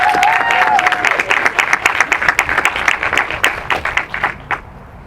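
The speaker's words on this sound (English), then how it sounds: "Let's also give the Turner family a round of applause" An audience at an outdoor veteran historical corridor unveiling in Oakland, California, breaks into dense applause that stays full for several seconds, then thins to scattered claps and fades out.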